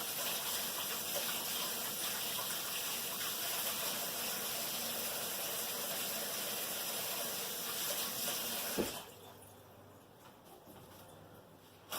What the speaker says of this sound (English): make sure you wash your hands